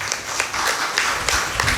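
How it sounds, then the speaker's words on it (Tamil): Wedding guests clapping for the newly married couple at a church wedding Mass in Kalyanampoondi, a steady patter of applause with scattered sharper claps throughout. "நம்முடைய வாழ்த்துக்களை கைத்தட்டி தெரிவிப்போம்"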